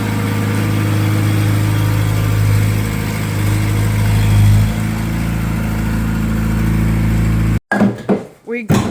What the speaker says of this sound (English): Here comes the skid steer